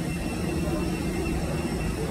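A continuous low roar of airplane engines inside the cabin of a plane drones evenly at moderate volume, broadband and steady with no distinct events.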